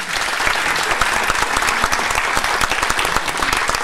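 Loud, steady applause from a crowd, dense clapping sustained throughout with no pauses.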